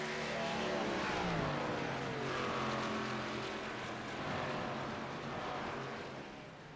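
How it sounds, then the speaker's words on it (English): ARCA race cars roar around Atlanta Motor Speedway, a broad, loud engine drone with shifting pitch as the cars pass down the backstretch, with no clear talk over it. "Jackson works off turn number 2 down the backstretch to put Brian Rupert the 3 a lap down"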